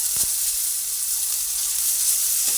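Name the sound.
tomato and okra frying in oil on low flame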